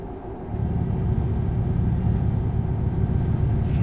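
High-pitched squeal from a truck in Euro Truck Simulator 2, a faint steady whine sitting over a continuous low rumbling engine drone throughout.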